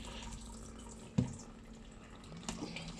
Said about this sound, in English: If I'm taking out this moisture sensor, the pump will start